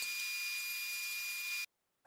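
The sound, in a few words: table saw cutting scrap wood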